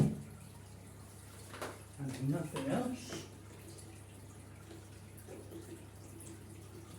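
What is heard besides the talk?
AquaSafe water conditioner poured into aquarium water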